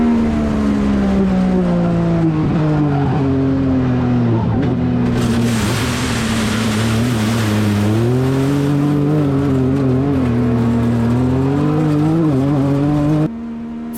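A race car at the Varano circuit under hard braking, its engine note sweeping and wavering as a downshift fails to engage, loud and close throughout before the sound cuts abruptly.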